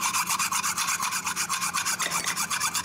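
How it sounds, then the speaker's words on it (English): A large double-sided coarse and fine honing block rubs a tractor carburetor base flat, a close, steady rasping in quick regular back-and-forth strokes, about five per second, with no talking. "This is just a off the shelf, a little larger than normal honing block. You know, it's double-sided, coarse and a fine."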